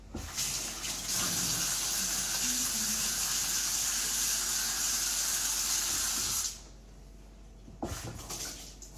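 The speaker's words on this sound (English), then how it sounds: "Just wash my hands a little bit." A bathroom or kitchen tap runs in a steady, loud broadband rush for about six seconds while hands are washed, then cuts off abruptly, followed by a brief clunk and faint splashing.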